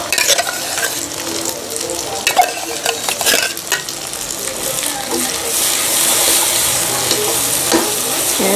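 Chopped chicken skin frying in a hot pan gives off a loud, steady, close sizzle that thickens into a bright, even hiss toward the end, with occasional stirring scrapes and no speech.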